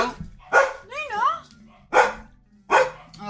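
A dog in the video game Date Everything gives three loud, close barks with a whining, wavering yelp between the first two.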